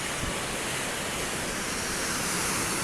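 Waterfall in Cheyenne Canyon heard near a bridge at the top of a staircase: a steady, loud broadband rush of falling water that holds constant throughout, with no voices.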